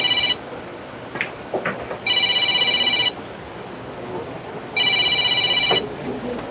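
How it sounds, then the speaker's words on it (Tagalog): A mobile phone rings in repeated electronic bursts about a second long, three in view with pauses between them, over background room noise. "Ay tumatawag sa cellphone ni Mark"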